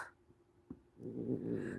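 A cat growls low and steadily while settled on a blanket, a rising rumbling grumble that swells after a few faint stirrings and continues close by.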